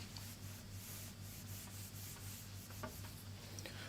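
Writing is rubbed off a classroom board in a steady, soft scrubbing over a constant low hum, with no talk.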